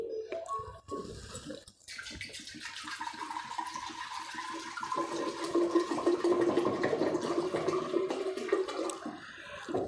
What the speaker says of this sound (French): Je viens avec un pot dans lequel je mets de l'eau.